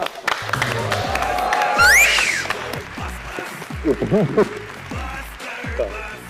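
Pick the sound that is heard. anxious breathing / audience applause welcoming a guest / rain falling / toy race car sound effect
audience applause welcoming a guest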